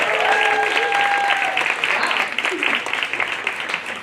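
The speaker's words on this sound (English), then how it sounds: "Give you guys a round of applause." Steady applause from a crowd fills the whole clip, loud and continuous with scattered sharper claps.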